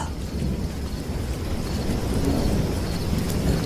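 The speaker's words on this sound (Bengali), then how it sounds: "খুব ঝড় বৃষ্টি হচ্ছিল" A heavy thunderstorm: steady, dense rain with deep rolling thunder rumbling throughout, loud and close, no voices.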